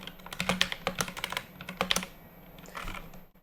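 Quick, uneven bursts of typing on a computer keyboard while writing Unity code, close and fairly quiet, with short pauses between runs of keystrokes.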